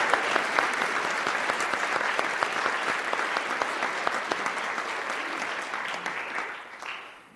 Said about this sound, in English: So let's just give Kimberly another round of applause.